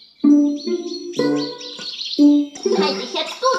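A cartoon bird in a forest chirps and warbles in a string of bright, loud, tuneful calls, close and clear with no talking over them.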